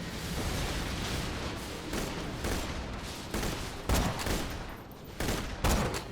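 Repeated loud, booming sniper rifle shots in the video game Borderlands 2, with several sharp blasts spaced a second or so apart over dense battle noise.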